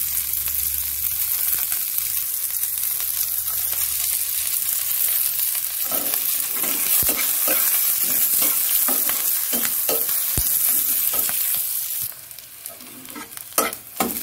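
Garlic, green chilies and onion fry in a pan with a continuous loud sizzle. Repeated scraping stir strokes join midway, and the sizzle drops off toward the end among a few sharp knocks.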